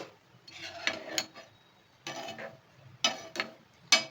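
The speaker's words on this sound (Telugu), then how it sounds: "బాగా కలిపేసుకోవాలి" A spoon stirs okra tamarind stew in a metal pot, scraping and clinking in about four separate close bursts with short pauses between them.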